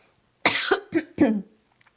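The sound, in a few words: cough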